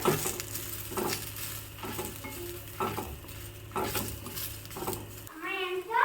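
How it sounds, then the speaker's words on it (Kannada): A spoon repeatedly scrapes and stirs through onions sizzling in a pan, in steady rhythmic strokes, with faint voices in the background. "ಇದನ್ನು ಚೆನ್ನಾಗಿ ಹುರ್ಕೋತಾ ಇದ್ದೀನಿ ಈರುಳ್ಳಿ ಎಲ್ಲ ಚೆನ್ನಾಗಿ ಬಾಡಬೇಕು"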